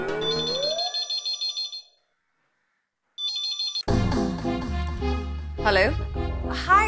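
A telephone ringtone from a TV sitcom scene rings in repeated electronic bursts, stops briefly, then resumes before music and speaking voices take over.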